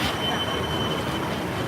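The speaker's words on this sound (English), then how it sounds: "Here comes the tram." A tram at Universal Studios Hollywood rolls in, its rail wheels giving a steady, close rumble with a faint high squeal over the whole short stretch, and no voices.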